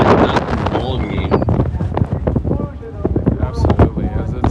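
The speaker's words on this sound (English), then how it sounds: "it's super windy out here" Strong wind buffets the microphone outdoors at a baseball field, a loud, gusty rumble running throughout under steady talk.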